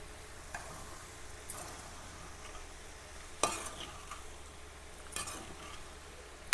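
Ridge gourd curry being stirred in a pan over low heat: a few soft scraping strokes spaced several seconds apart over a faint, steady sizzle, with no voices.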